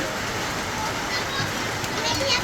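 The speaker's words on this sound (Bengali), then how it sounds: "এই যে বৃষ্টি পড়তেছে, দেখেন বন্ধুরা," Rain falling outdoors during a cloudy day, a steady broadband patter and hiss filling the short stretch without pause.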